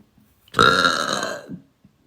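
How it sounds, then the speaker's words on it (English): A single long, loud burp from a girl rolls out alone for about a second and tapers off, with brief quiet before and after. "Burp is coming right now."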